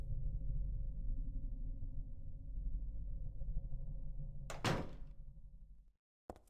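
A heavy door in Silent Hill 3 unlocks and opens after a moonstone is set into it: one loud, sharp thunk over a low, steady droning ambience. A brief silence follows, then a second short clunk.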